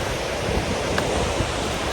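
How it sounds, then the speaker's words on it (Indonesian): Strong wind blowing across a rocky mountain trekking trail, a steady loud roar with gusty swells and buffeting against the microphone, continuing without pause. "Anginnya kenceng nih."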